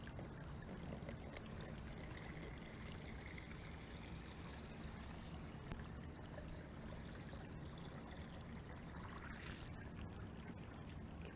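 Water is poured into a cubitainer sample container during outdoor water-quality sampling, a faint steady trickling and splashing that runs continuously at low level.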